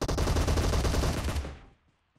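Loud burst of rapid automatic gunfire in the mobile battle royale game PUBG Mobile, a dense continuous volley of shots lasting over a second before cutting off into near silence.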